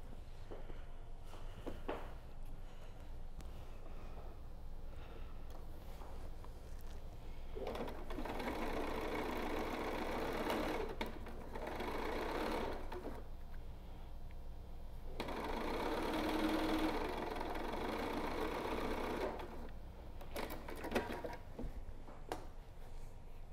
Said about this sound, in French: Puis je vais venir coudre sur les deux côtés ici, à 1 cm, bien sûr.